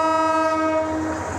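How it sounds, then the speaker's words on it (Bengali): A departing passenger train in Bangladesh sounds a long, loud, steady horn blast, a single sustained tone lasting the whole moment. "লম্বা হুইসেল বাজিয়ে ছুটল ট্রেন"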